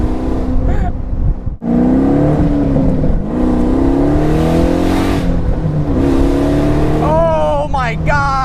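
A 700 hp Pontiac Solstice with a swapped LS3 V8 revs hard and pulls under acceleration, its loud, rising engine note droning steadily throughout with a sharper climb near the end; a voice is also present.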